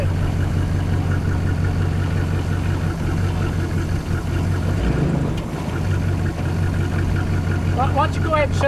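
A 1962 Mercury Monterey's engine runs on fast idle in gear, a steady, loud, rough low drone throughout, with people talking over it.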